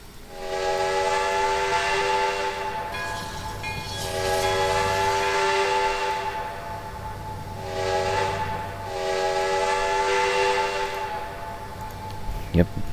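A Santa Fe 492 locomotive in the Trainz railway simulator sounds a loud, sustained chime horn in three long blasts with short gaps between them, and a low engine drone runs beneath.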